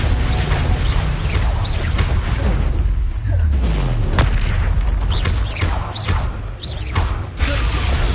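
The Bombarda spell in Hogwarts Legacy sets off loud, close explosive booms among whooshing combat effects, several blasts landing in quick succession.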